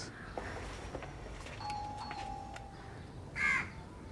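A brief electronic doorbell chime rings twice, a thin tone followed by a brighter ding, over quiet room hum with no talking.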